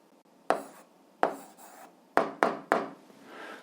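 Pen strokes write out an algebra answer in a quiet room: several short, crisp scratching bursts with brief pauses between, close and fairly faint.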